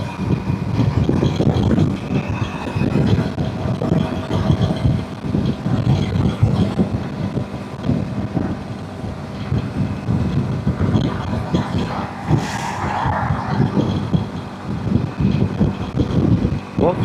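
A TVS RTX 300 motorcycle is ridden along an open road with a continuous engine drone and heavy wind buffeting, steady throughout the ride.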